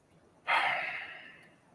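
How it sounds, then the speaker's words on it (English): Someone breathes hard straight into a microphone, a single sharp, close exhale that trails off over about a second in a quiet room. "Oh, somebody's breathing hard."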